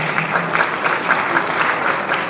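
Audience applause at a university event, loud, sustained clapping from a large crowd of many hands at an even rhythm throughout.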